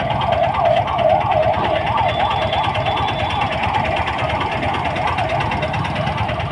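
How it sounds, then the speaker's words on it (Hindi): A wailing ambulance siren rises and falls rapidly and steadily over a rumbling engine and road noise, fairly close and loud throughout. "एम्बुलेंस आ रहा है।"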